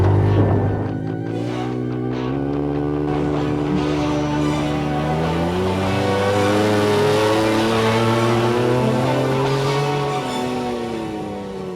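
A side-by-side off-road vehicle on sand dunes drives with a loud, continuous engine note that rises and falls in pitch as it revs and shifts, with no talking.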